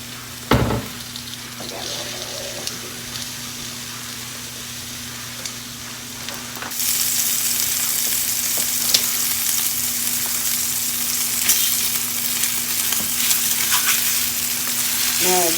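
Chicken fries in a little oil in a worn non-stick pan, with a steady sizzle that grows louder and denser partway through and continues alone without talk.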